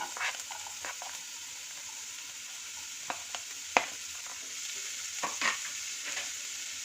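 Chopped onion fries gently over low heat in a pan for hot and sour vegetable soup, a quiet steady sizzle broken by a few distinct clinks and scrapes of stirring.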